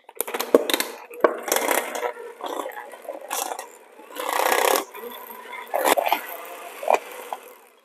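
Cream cheese, vanilla and sugar are worked together in a bowl, producing irregular scraping, clinking and thudding strokes of a utensil against the bowl, close and fairly loud with short pauses between bursts.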